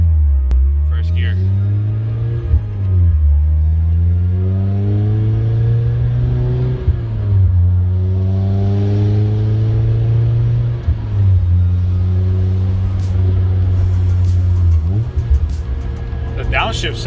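A Mazda Miata engine, close and loud, revs up and drops back several times in rising and falling sweeps through downshifts, with a deep steady rumble underneath.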